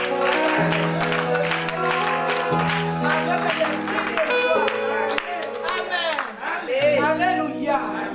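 A worship congregation claps and cheers over loud praise music, with rhythmic group clapping and crowd voices blending into the band throughout.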